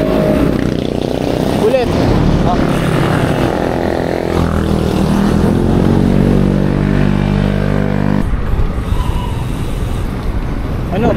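A motorcycle on a ride, a loud continuous engine drone with rising and falling revs, heard close up under wind noise with people talking.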